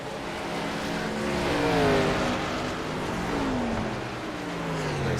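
Old-style Xfinity stock race cars racing at New Hampshire, a steady dense engine roar with pitch sweeps as cars pass, continuous and loud throughout.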